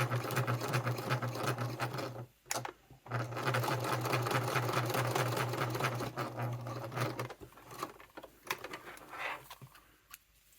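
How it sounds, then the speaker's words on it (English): Sewing machine stitching a strap and webbing together on a satchel bag, a steady close mechanical whir running continuously with two brief pauses, then slowing into intermittent bursts near the end. "I'm going to sew right on top of this other line I have for the sewing the strap and the webbing together."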